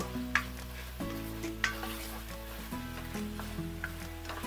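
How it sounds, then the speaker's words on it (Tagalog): Shrimp paste (bagoong alamang) being sautéed in a hot pan gives a steady sizzle, with occasional sharp clinks from stirring, while soft music plays underneath. "Then, tuloy lang natin yung paggisa ng mga 3 minutes"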